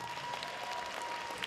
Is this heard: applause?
yes